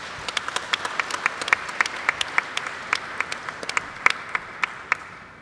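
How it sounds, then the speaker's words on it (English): Applause for the speakers at an international conference session on the Sendai Framework: a sparse scattering of individual claps from a small audience, moderately near, fairly steady for several seconds, with no voices. "let's once more put a round of applause for our speakers"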